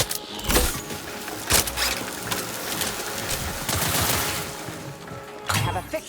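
Gunfire in the sci-fi shooter The Outer Worlds 2, with several loud separated shots and a short crackling volley over continuous combat noise, and no clear talking.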